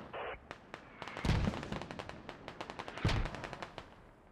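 Mortar rounds exploding in a military video game, two heavy booming blasts with rapid crackling gunfire and impacts scattered around them, loud and close, with no talk.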